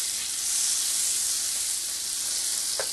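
About two tablespoons of fat melt in the bottom of a pan while making chicken liver pâté, giving a steady, close, even sizzle throughout with no talking.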